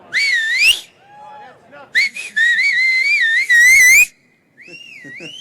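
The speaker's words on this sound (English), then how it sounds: "Does anyone hear me do one more whistle? Everybody join" Several people whistle sharp, wavering tones in overlapping bursts, some loud and close, with short gaps between them.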